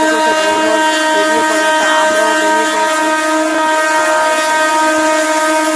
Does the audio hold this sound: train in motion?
yes